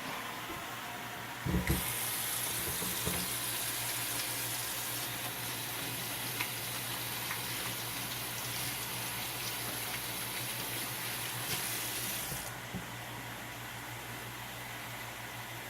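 A kitchen faucet gushes steadily for about ten seconds, then shuts off, with the soft sizzling hiss of meat cooking continuing underneath.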